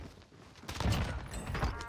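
Gunfire in Call of Duty Warzone, a quiet burst of several rapid shots in the middle of the moment, faint and somewhat distant.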